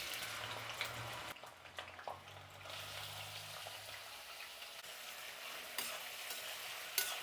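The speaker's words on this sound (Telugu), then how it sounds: "ఇప్పుడు ఇందులో ఉర్లగడ్డలు వేసేద్దాం." Potatoes frying in oil in a kadai, stirred with a spoon: soft continuous sizzle with scraping stir strokes and a few clinks, close and fairly quiet.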